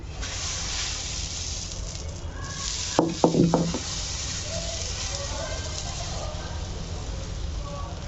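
Pesarattu dosa batter sizzles steadily on a hot pan, a continuous close hiss with a brief cluster of sharp clatters from the pan or utensil midway.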